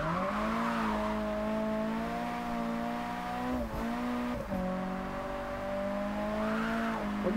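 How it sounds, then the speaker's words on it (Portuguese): Toyota Trueno engine in the Japanese Drift Master video game, a stock car droning steadily at high revs with smooth small pitch dips as gears shift, loud and continuous without talk. "Olha o barulho desse Trueno."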